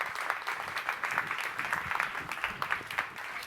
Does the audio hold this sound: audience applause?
yes